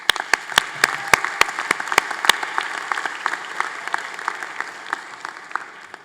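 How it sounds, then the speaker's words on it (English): Applause fills a 2022 university commencement ceremony, a broad steady wash of many hands clapping from the audience, with a few sharp close claps standing out at the start before the sound tapers off. "Please, let's give them a big round of applause."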